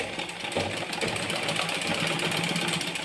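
A sewing machine stitches readymade lace onto a saree edge, giving a steady, close mechanical whirring hum with a rapid rhythmic chatter that continues without pause.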